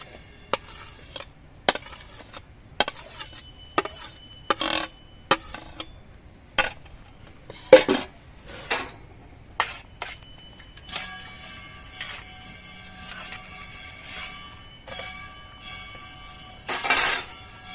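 Fried vegetables, cashews and raisins tipped and stirred into dal in a pot, giving a series of sharp metallic clinks and scrapes of a spoon against the pot, spaced irregularly and fairly close, with a longer scraping burst near the end.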